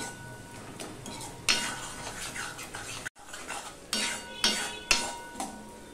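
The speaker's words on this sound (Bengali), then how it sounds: "দিয়ে আমি আবারও ভালো করে কষিয়ে নেব" A spoon scraping and stirring spice masala in a hot pan for a pointed gourd dish, with sharp metallic clinks against the pan and a soft sizzle underneath, a brief pause midway, no talking.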